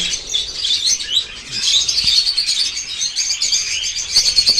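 Birds chirp and tweet continuously, a busy chorus of high, bright calls overlapping with one another, fairly close and with no talking.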